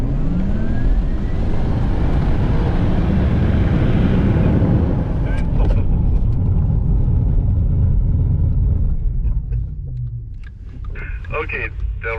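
A Porsche Taycan Turbo S electric sports car drives with a loud, steady rumble of tyres and motion, joined by a rising whine, then eases off while people talk nearby.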